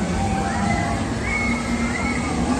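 River water rushes in a steady, loud broadband wash with sloshing close by, continuous throughout, and a voice faintly audible beneath it.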